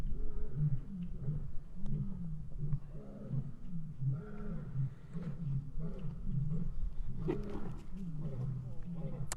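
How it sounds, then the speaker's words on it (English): Lions roar repeatedly at a wildcat sanctuary in a steady series of deep, rhythmic grunting calls that carry through the whole stretch, with people talking quietly over them. "I can hear some of the lions singing a reminder in the background"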